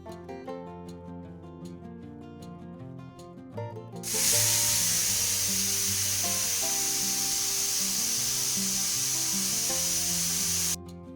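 A pressure cooker cooking egg biryani vents a loud, continuous steam hiss for about seven seconds, then cuts off abruptly, with light music playing underneath throughout.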